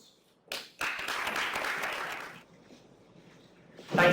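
Applause for a visiting professor at an academic lecture on medieval textiles, a burst of clapping that swells for about two seconds, then fades into a low murmur before more noise near the end.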